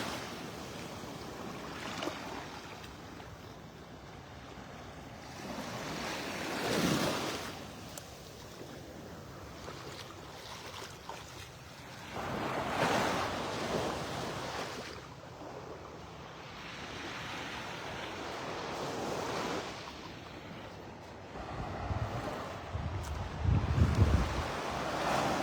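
Surf rolling in and out on Vanderbilt Beach in North Naples, Florida, with several broad swells of wave wash rising and fading across the clip, mixed with wind buffeting the microphone.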